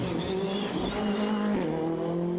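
A Ford Fiesta rally car howls through the Ards TT special stage, its engine note rising and dropping as it shifts gears, loud and close with a fading tail.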